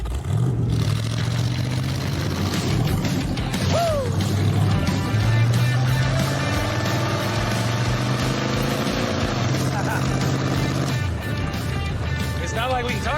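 Riding in a 1932 Ford hot rod, the loud engine growls and revs up and down at close range, with voices talking over the roar.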